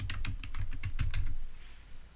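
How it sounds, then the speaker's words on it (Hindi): Rapid keystrokes on a computer keyboard, about a dozen close, even taps over a second and a half, then a brief pause with one last soft tap, recorded up close with no talking. "यहाँ पे मैं जावेद इकबाल लिख देता हूँ"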